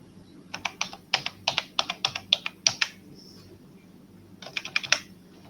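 Computer keyboard typing in a short burst of rapid key clicks, a pause, then a second brief flurry of keystrokes, close and clear over a low room hum.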